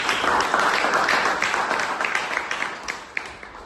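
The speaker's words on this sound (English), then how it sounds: "Alright, round of applause." Audience applause at a student debate on banning trade with China: many hands clapping loudly at first, then thinning and fading toward the end, with a few separate claps standing out.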